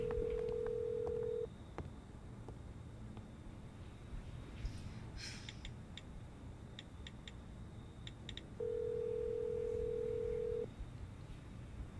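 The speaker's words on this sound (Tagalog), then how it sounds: "Joanna, sagutin mo naman yung tawag ko" Telephone ringback tone from an unanswered call, two long steady tones several seconds apart, with faint beeps and background noise between them.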